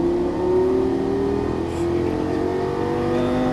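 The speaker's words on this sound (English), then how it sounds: "And accelerate all the way down the straightaway." A Lamborghini Gallardo LP-550 accelerates down a track straightaway, its engine note rising steadily in a loud, continuous drone close to the listener.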